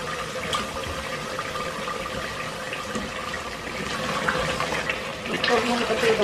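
Water pours steadily into a cooking pot of meat and vegetables during Eid al-Adha dish preparation, a continuous rushing splash that grows slightly fuller toward the end.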